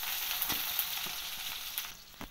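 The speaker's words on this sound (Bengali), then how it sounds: "এখন পেঁয়াজ কুচিটা আমার হালকা ভাজা হয়ে গেছে" Chopped onion lightly frying in a pan after a panch phoron tempering, for a fish shukto: a steady close sizzle with a few brief crackles and no talking.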